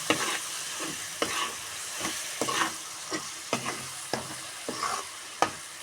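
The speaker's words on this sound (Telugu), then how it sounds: "మగ్గినాక అల్లం వెల్లుల్లి పేస్ట్ వేసాను." Ginger-garlic paste frying in a pan gives off a steady close sizzle, broken by repeated scraping strokes of a spoon stirring at roughly one-second intervals.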